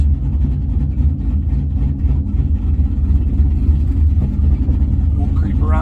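A car fitted with the GPI Max Package 2.0 idles as it creeps around a parking lot with no throttle. It makes a steady, loud, low rumble that stays even throughout.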